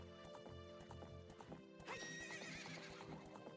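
Horse galloping in The Legend of Zelda: Ocarina of Time, a steady clip-clop of hooves with a whinny near the middle, loud and close with game music underneath.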